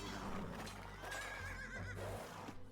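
Horses neigh and whinny inside an Age of Empires 2 match, layered over busy game sounds with clip-clopping hooves, a rising-and-falling whinny standing out near the middle of the short stretch.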